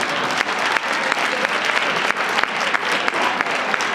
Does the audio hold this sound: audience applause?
yes